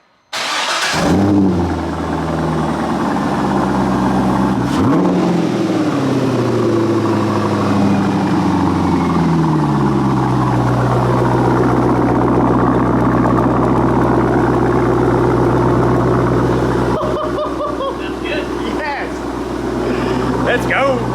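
A Corvette's big V8 cranks and fires on its first startup, revs up sharply, then settles into a loud, throbbing idle that rumbles steadily for a long stretch.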